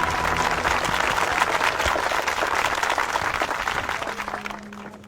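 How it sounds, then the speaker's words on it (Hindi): A studio audience applauds as the chief is called up at a team water-digging challenge, dense steady clapping filling the whole stretch before easing slightly near the end. "उनके लिए तालियां हो जाए।"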